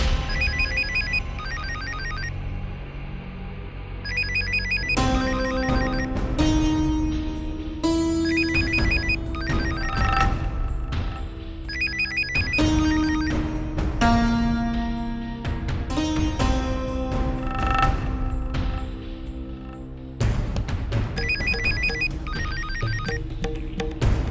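A phone ringtone plays loudly and repeatedly, a bright melodic electronic tune cycling in bursts with short pauses between rings.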